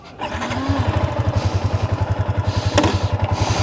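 A 2019 Yamaha Sniper Monster Energy Edition motorcycle engine turns over and catches, settling into a loud, rapid, regular idle thump close by.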